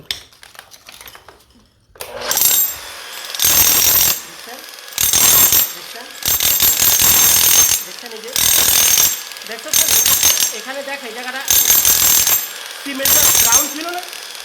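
Loud bursts from a power tool breaking up tiles and cement, roughly seven hammering runs of a couple of seconds each separated by short pauses, close and harsh.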